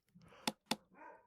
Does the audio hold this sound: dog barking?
yes